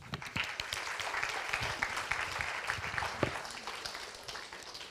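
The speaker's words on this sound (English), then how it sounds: "He can hear our clapping." An audience at a victims' support conference claps after a commissioner's address, a dense, steady wash of many hands applauding in a hall, moderately loud and continuous.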